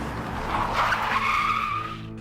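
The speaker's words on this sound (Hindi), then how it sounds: "दोनों ही अपनी गाड़ी का ब्रेक लगाते हैं।" Cartoon jeeps brake hard in an animated horror story, their tires letting out a sharp screeching skid that swells and then fades out, moderately loud with no talking.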